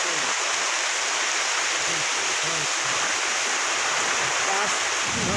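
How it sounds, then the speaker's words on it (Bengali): A downpour drums on a village house in a storm, loud and unbroken, with a voice briefly audible under the rushing rain. "প্রচুর পরিমাণ বৃষ্টি হচ্ছে।"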